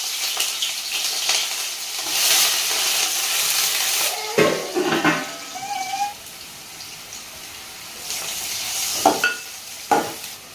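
Oil heats and sizzles in a hot kadai, a steady frying hiss broken by bursts of sharper crackle and the scrape of stirring, close and fairly loud with no talk.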